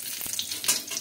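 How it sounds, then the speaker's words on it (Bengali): Chopped garlic sizzles in hot white oil in a wok, a brief steady frying crackle with a soft stirring scrape. "এই যে রসুনটা ভালো করে ভেজে নিই"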